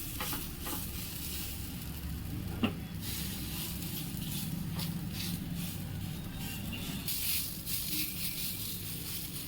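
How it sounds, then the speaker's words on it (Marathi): Small fasting thalipeeth flatbreads fry on a hot tawa with a steady, close sizzle and hiss, broken by a few light scraping and tapping sounds, and no one talks. "तवा छान तापलाय, आता त्यावर आपण छोटे छोटे थालीपीठ लावून घेऊ।"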